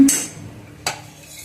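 A ladle clinks against a pan twice while oil is poured in to start a dry dill-leaf (shepu) bhaji, one sharp metallic tap at the start and another just under a second later, with quiet room tone between.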